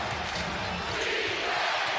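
Basketball arena crowd rising to its feet with a steady, loud roar of cheering that fills the whole moment, with no clear individual voices standing out.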